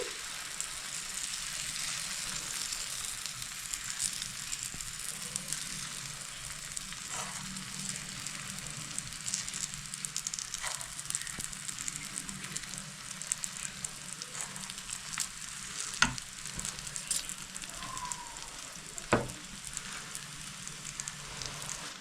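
Patishapta pitha batter is ladled onto a hot pan and spread into a round, giving a steady soft sizzle with a few faint clicks of the ladle. No one speaks.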